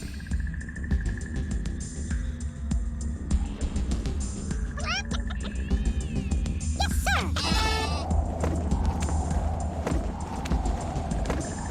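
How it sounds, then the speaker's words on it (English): The Super Sheep weapon in Worms Armageddon gives a string of high, wavering bleats over steady game sounds and running background noise. "as this super sheep is rounding the corner"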